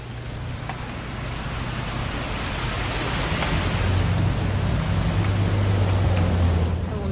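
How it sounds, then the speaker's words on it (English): Heavy rain in the video game What Remains of Edith Finch, a thick, steady roaring hiss that swells slightly louder over several seconds, with a low rumble beneath and no talking. "It's gonna rain the whole weekend,"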